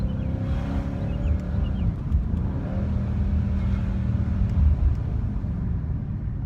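Mercedes C63 AMG engine accelerating from inside the car, a steady, close, deep rumble with a slight rise in pitch, continuous for the whole stretch with no talking.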